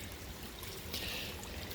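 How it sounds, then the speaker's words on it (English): Creek water from a Rock Creek tributary is scooped into a small sample container, giving a steady broadband outdoor stream wash with a brief brighter splash and gurgle midway, heard close with no voices. "grab some water from this Rock Creek tributary here"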